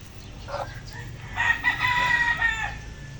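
Young November-born roosters, about four months old, crowing near the camera at a small backyard poultry farm, with one longer crow rising over a low background hum.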